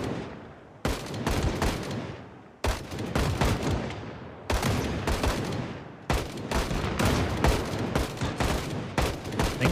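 Loud, close gunfire in the video game Project Zomboid comes in four long rapid bursts of shots, each cutting off sharply before the next begins, with no talking.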